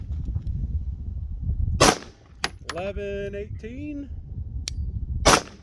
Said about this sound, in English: All right, up on the Glock, 3 shots.